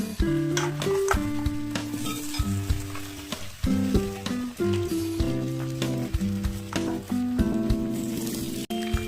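Loud, continuous sizzling of chicken frying in a pan, with stirring scrapes over a tonal musical background.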